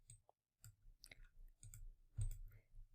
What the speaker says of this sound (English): click on the image.